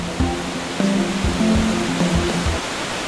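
Hinik-Hinik Falls, a waterfall in Catanduanes, gives a loud, steady rush of falling water throughout, with a faint rhythmic tonal pattern running under the roar and no voices.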